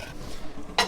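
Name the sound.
stirring tomato sausage ragu in a pot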